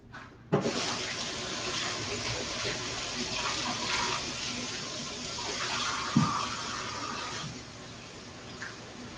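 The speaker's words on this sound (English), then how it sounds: "Just literally run them under some water, give them a nice scrub." Potatoes are rinsed and scrubbed under a running kitchen tap, a steady close rush of water turned on abruptly, with brief splashes and knocks as the potatoes shift in the stream.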